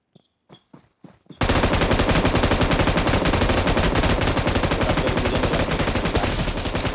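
A few short bursts, then nonstop rapid automatic gunfire in the PUBG battle royale game on the Erangel map, loud and close, holding steady for several seconds with no talk.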